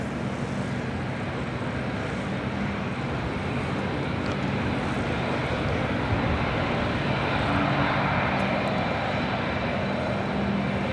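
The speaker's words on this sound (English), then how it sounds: "Here comes Korean Air A380 about to cross." A Korean Air A380 airliner taxis at LAX, its engines producing a steady, loud broadband roar that holds throughout with no voices.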